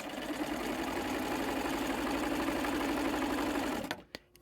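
A home sewing machine stitches quilt block strips for a Carrie Nation block in one loud, close, continuous whirring run of about four seconds, then stops, followed by a couple of small clicks.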